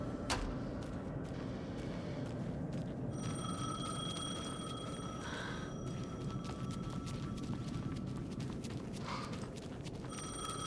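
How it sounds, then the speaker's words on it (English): A telephone rings in the video game Alan Wake 2 with repeated electronic rings in several separate bursts, moderately clear above a constant low rumbling ambience, with no voices. "The phone again."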